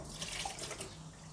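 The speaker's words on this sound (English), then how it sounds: "And I'm going to do a sandwich pour" Paint poured from a gravy jug in a sandwich pour onto a ukulele, a steady, soft liquid stream that runs continuously and faintly throughout, with no talking.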